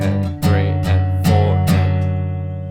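Guitar playing the heavy bridge of a song: thick, sustained distorted chords with sharp strummed accents roughly every half second, loud and close, ringing out at the end.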